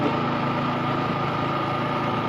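A motorbike engine on a long road trip, a steady low drone and hum running throughout without a break, close and fairly loud, with no talk.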